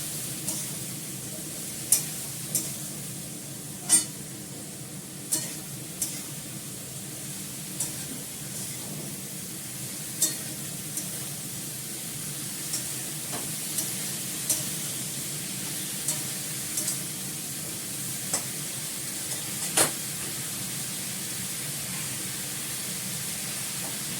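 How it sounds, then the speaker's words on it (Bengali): Eggplant frying in a pan gives a faint, steady sizzle with scattered soft clicks and taps of stirring throughout. "বেগুন ভাজা হয়ে গেছে"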